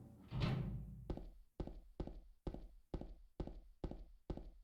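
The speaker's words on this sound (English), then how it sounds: "Here, this is an apartment door." Apartment door in Silent Hill 2 thunking repeatedly, a burst of sound followed by eight evenly spaced, hollow knocks in a steady rhythm, close and fairly loud with no talk.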